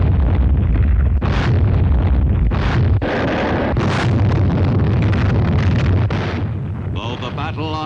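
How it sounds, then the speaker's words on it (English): Navy warships bombard Pacific invasion beaches on D-Day morning: loud, continuous booming and rumbling blasts in an old wartime recording, with sharper bursts breaking through the roar. "the Navy's warships sought to soften up the beaches by the final pre-invasion bombardment"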